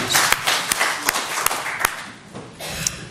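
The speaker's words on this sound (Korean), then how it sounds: "우리 박수로 하나님께 영광 올려드리겠습니다" A church congregation claps together in a steady rhythmic beat, roughly three claps per second, loud at first and then thinning and quieting toward the end.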